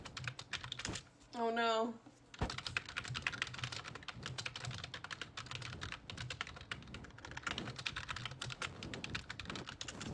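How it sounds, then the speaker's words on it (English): Rapid clicking of typing on a computer keyboard runs steadily, close and moderately loud, with a brief voice exclamation and a short electronic tone near the start. "Ignore me typing."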